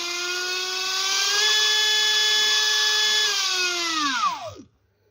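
A Hobbywing electric motor screams at full throttle with a loud, steady high-pitched whine, then spins down quickly and falls silent near the end.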